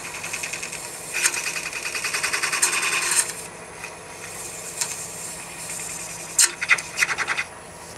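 A scraper is drawn across acrylic in short rasping strokes: a rhythmic run of scratches early on, a pause, then a few sharper scrapes near the end, close and fairly quiet.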